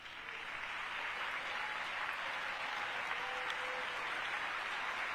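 Sustained applause from a large chamber audience at the State of the Union address, a steady dense wash of clapping that holds at an even level for several seconds, heard without speech.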